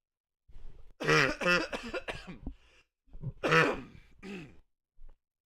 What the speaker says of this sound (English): does my cough sound really bad?